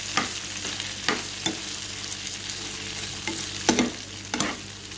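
Elephant foot yam podimas frying in a pan and being stirred, a steady sizzle under a run of distinct scrapes and clanks of a spoon against the pan, close and moderately loud, with no talk.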